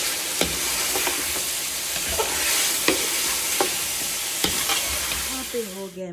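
Pulao tempering (tadka) sizzling in a pan while being stirred: a constant crackling hiss of hot oil and spices, broken by sharp scraping clicks of the spoon against the pan every second or so.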